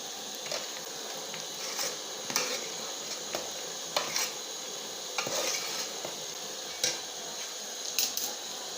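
Spices frying and being stirred in a pan over raised heat for a spicy Bengali village-style fish curry, with a steady soft sizzle and scattered sharp scrapes and clinks of a utensil against the pan.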